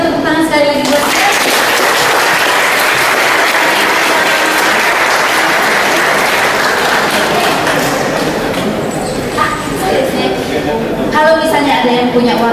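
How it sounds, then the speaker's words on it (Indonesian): Audience at a Japanese folk music event at a university breaks into loud, sustained applause that swells and then fades as a voice speaks over its edges. "Mari kita tepuk tangan sekali lagi buat dia."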